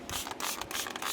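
A fly spray bottle sprayed on a two-year-old filly, a dense hissing spritz with rapid pulsing bursts, close and continuous for about a second, with no talking.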